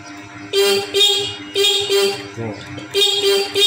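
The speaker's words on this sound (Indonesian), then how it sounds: "Di sini untuk klakson lemah Pak, kedengarannya tidak nyaring" A thin, weak car horn honks close by in a series of short bursts, about five toots with brief pauses between.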